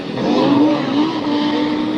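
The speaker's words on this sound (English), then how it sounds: "Michèle Mouton is having her first drive in the new short wheelbase Quattro Sport" An Audi Quattro Sport short-wheelbase rally car drives past with a loud, strained engine note that wavers briefly as it accelerates.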